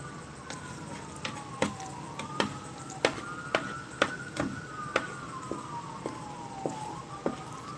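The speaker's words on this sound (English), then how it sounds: "A fire truck or an ambulance" A fire truck or ambulance siren about a block away, a faint wailing tone sweeping up and down continuously under sharp, regular ticking clicks.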